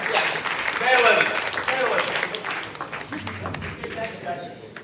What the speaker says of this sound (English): Please give it up for them.